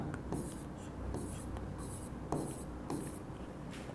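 Marker or chalk writing on a board, a soft scraping of short strokes repeating across a few seconds over a low background hum, fairly faint.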